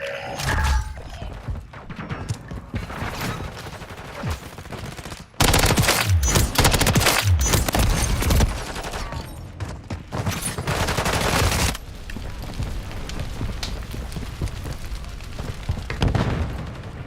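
Automatic gunfire and bursts of shooting in Call of Duty Modern Warfare 3, loud and continuous, with heavy thuds and booms mixed in, especially a dense, intense stretch in the middle.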